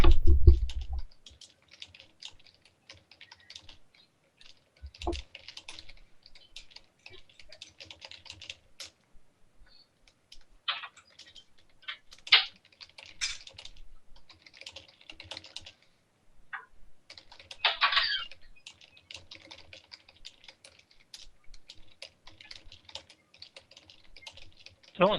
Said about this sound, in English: Someone's typing furiously. That's me.